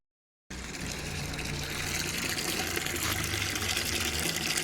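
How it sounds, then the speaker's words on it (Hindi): Water pours steadily into a bucket, a continuous loud splashing gush that starts abruptly and runs on without pause, with no talk. "तो ये पानी से बाल्टी भर लूँगा जी"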